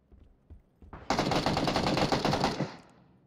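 Automatic rifle fire in the battle royale game PUBG, a long loud burst of rapid shots lasting about a second and a half, preceded by a few scattered single reports.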